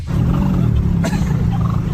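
Wild turkeys gobble loudly and close by, a throaty rolling burst of calls that lasts through the whole moment with no speech over it.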